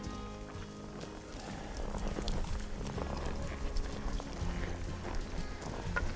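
Hooves clip-clop steadily over a busy, noisy outdoor background, fairly close, with a continuous low rumble and scattered knocks throughout.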